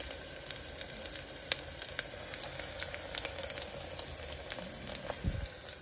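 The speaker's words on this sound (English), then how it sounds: "fry it until it's just crispy." Panamanian tortillas fry in hot oil until crispy, giving a steady faint sizzle with scattered crackles and pops and no voices.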